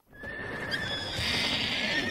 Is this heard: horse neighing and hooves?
yes